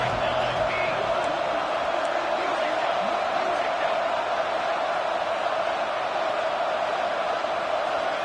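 Steady, dense crowd roar from a packed college football stadium in a video game, fans cheering to help the defense in the red zone, a constant wash of noise with a faint commentator voice beneath.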